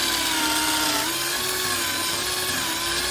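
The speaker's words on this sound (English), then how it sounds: "Just start drilling, pull out, clean it out," A power drill bores into wood during a chicken tractor build, a loud continuous whirring grind with a steady motor tone throughout, no voices.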